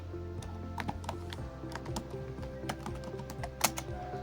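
Rapid clicking of a computer keyboard as database commands are typed, an irregular run of close, crisp keystrokes with a sharper clack near the end, over a faint steady hum.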